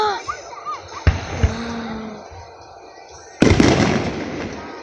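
Big fireworks bursting overhead: a couple of sharp booms early, then a heavy volley of crackling explosions near the end, with people chatting quietly in between.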